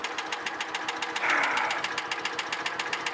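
John Deere Gator utility vehicle engine running steadily nearby, a rapid regular putter with a brief swell in revs partway through.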